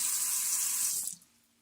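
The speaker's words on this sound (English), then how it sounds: "So get it from the tap." Tap water gushes steadily into a pot close by for about a second, then the flow cuts off abruptly into near silence.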